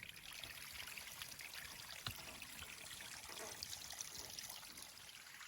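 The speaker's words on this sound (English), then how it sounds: "we're filtering some water from this cool pipe running down there" Steady trickling water runs continuously from a pipe outdoors near a trail shelter on the Appalachian Trail, a soft broadband splashing with no voices and one brief knock partway through.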